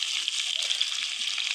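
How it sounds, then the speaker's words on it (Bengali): Fish fries in hot oil in a pan over a clay stove, giving a steady, close, crackling sizzle with small popping spatters throughout and no talk. "আমার মাছ এগুলো বাইজে মাটির চুলে রান্না করতেছি"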